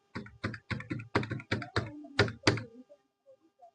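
Rapid keystrokes on a computer keyboard as a mobile number is typed in, a quick run of about ten close, crisp taps in uneven rhythm that trail off into silence.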